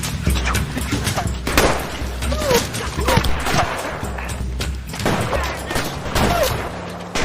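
Rapid bursts of gunfire crackle through a noisy scene, with voices and chaotic background sounds layered underneath.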